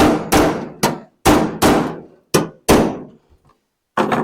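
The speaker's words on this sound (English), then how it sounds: "I can go along and just pound it down in between" Loud hammer blows pound a plug-welded sill panel on an MGA, about eight sharp metallic strikes in an irregular rhythm with short ringing decays and brief pauses between, close and alone.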